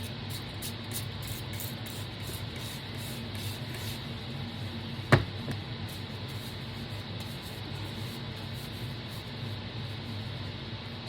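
A heat tool warms resin in a seashell bowl with a steady, hissing, fan-driven rush that stays at an even level throughout, broken only by one brief click near the middle.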